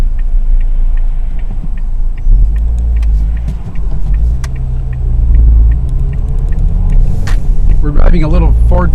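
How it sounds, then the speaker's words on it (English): A small Ford Fiesta driving on a road, a steady low engine and tyre rumble throughout with a brief voice near the end. "We're driving a little Ford Fiesta that actually is a pretty nice car."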